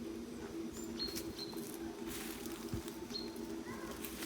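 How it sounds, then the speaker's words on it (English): Birds chirp and call faintly outdoors at a castle in France's Loire Valley in September, scattered thin tweets over a steady low hum of background noise. "And you can hear the birds singing."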